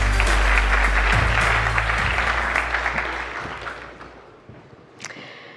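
Audience applause for a winning startup team at a venture competition grand final, a loud burst of clapping near the stage that gradually fades over several seconds, with a low rumble underneath and a sharp knock near the end.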